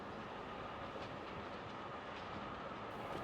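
Train carriages rolling along in the video game Forgotton Anne, a steady dense rumble with faint clickety-clack, continuous throughout and with no talk.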